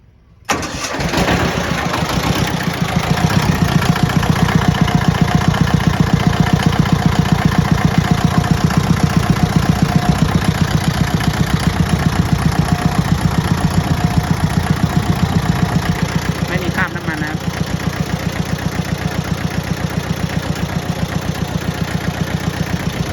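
A Hinomoto E14D four-wheel-drive tractor engine cranks and catches, then settles into a loud, steady diesel idle that runs close by for the rest of the clip, with no talking.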